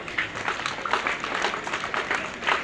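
An audience at a children's village assembly in Sakharayapatna, Kadur taluk, claps in a loose, uneven patter of moderate loudness that swells and dips over a few seconds.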